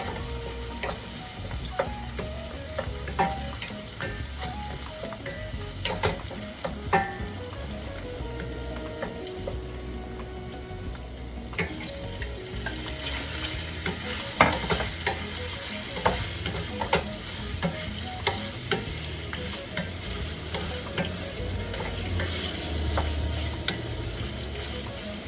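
Pork sizzling and frying in a pan for Filipino binagoongan, a steady crackling hiss with scattered pops and occasional stirring scrapes, close and alone with no talk throughout.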